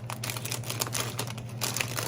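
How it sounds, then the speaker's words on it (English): Scissors slice through a plastic bag in a kitchen, a rapid run of close crinkling snips and rustles with a low hum beneath, no talk. "I'm just gonna cut the bag in half."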